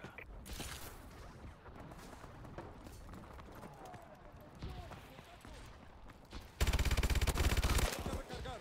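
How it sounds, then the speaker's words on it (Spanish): Gunfire in Call of Duty Advanced Warfare on PS4, with scattered shots and then a loud, rapid automatic burst near the end, heard over game noise. "Mire, le disparo primero."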